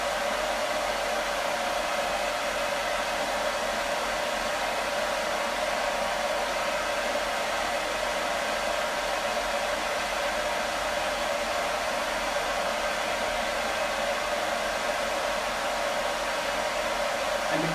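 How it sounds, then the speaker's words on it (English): A dog hair dryer blowing on its high setting gives a constant, loud, rushing whoosh that stays even throughout with no talking. "this is a proper hair dryer for dogs, it does the job really quickly"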